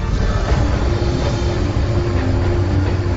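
Freight train 7551 East rolling down a steep 2.2% grade, out of control: a loud, close, continuous roar and rumble of rail cars with a steady metallic drone, no voices.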